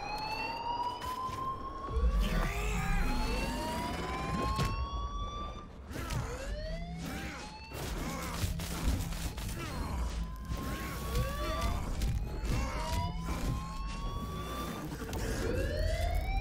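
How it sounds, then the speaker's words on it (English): Alarm siren going off in the video game Dead Island 2, a repeated rising wail that cycles again and again over a low mechanical drone, joined by clattering and crashing sounds. "They set off the alarm."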